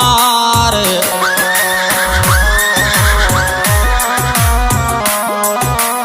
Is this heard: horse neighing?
yes